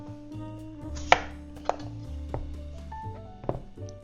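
A knife chops through the ends of a butternut squash on a cutting board, making a few sharp thunks over steady background hum.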